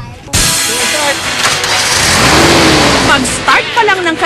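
Several off-road SUV engines, Suzuki Feroza club vehicles, rev and roar loudly at close range, pitch rising and falling, with voices and shouting mixed in.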